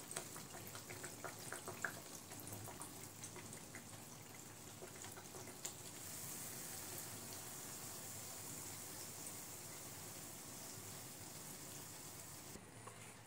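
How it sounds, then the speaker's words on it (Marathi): Anarsa, a sweet rice-flour pastry, frying in hot oil until golden on both sides, giving a steady, soft bubbling sizzle throughout, close but quiet, with no talking. "दोन्ही बाजूने आपण गोल्डन रंगावर आपण तळून घेऊया"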